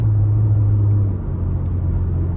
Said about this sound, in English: starting the test drive in this Ranger Raptor, acceleration is fantastic, just a super quick truck